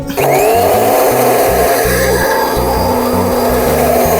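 A blender whirs loud and steady from start to finish, churning a batch of homemade mayonnaise with added jaggery for chicken mandi, with the motor's tone holding constant throughout.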